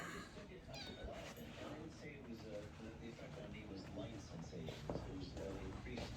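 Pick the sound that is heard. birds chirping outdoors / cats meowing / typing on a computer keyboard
cats meowing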